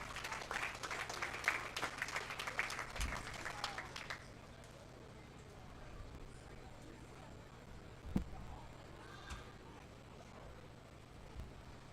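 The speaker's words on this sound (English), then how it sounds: "let's give our senior showman one more round of applause as they exit" Applause at a county fair sheep and goat show as senior showmen exit the ring, a fairly distant crowd clapping for about four seconds before it cuts off into quiet background with a few thumps.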